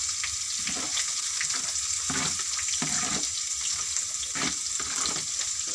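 Chopped onions and green chillies frying in a pan for a mushroom curry, giving a steady sizzle with soft repeated scraping strokes of a spoon as they are stirred, close and continuous with no talk.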